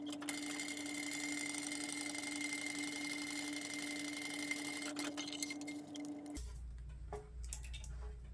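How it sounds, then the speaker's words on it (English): A sewing machine runs steadily, stitching a tote bag seam at a 3/8 inch seam allowance, a continuous close mechanical whir that stops abruptly near the end, leaving low room noise. "stitch that together at 3/8 inch seam allowance"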